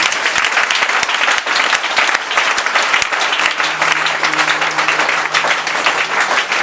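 A church congregation applauds steadily and loudly throughout, dense clapping filling the space with a faint sustained tone underneath in the latter half.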